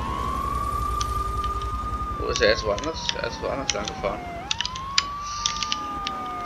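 A police car siren from the GTA 3 video game wails and sweeps steadily in pitch throughout. People talk in German over it, with a few faint clicks in the background.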